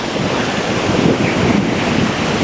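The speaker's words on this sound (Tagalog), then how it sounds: "Lalo na yung laki ng alon" Loud, continuous roar of ocean waves crashing and surging on a beach in Bani, Pangasinan, Philippines, mixed with heavy wind buffeting the microphone.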